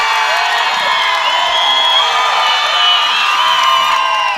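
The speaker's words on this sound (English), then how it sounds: "this crowd is giving her a hard time" Basketball crowd at a state semifinal game heckling a player, a loud sustained mass of shouting and jeering voices that holds steady throughout.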